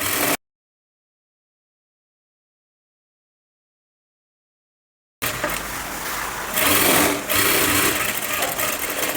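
A sewing machine stitching a princess-seam front panel onto a boat-neck blouse: a short burst, several seconds of silence, then a loud, steady whirring run that continues to the end.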